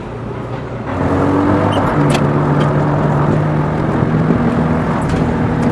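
An MG F convertible sports car is driven hard on the open road, its engine rising in pitch through the revs and then changing gear, a loud steady drone with wind noise and no voices.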